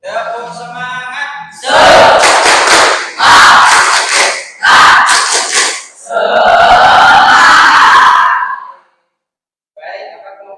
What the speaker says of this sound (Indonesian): sebelum ada presentasinya kita tepuk semangat dulu. Tepuk semangat.